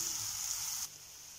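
Steady, close sizzling of mushrooms sautéing in a pan, a bright hiss that drops slightly in level partway through.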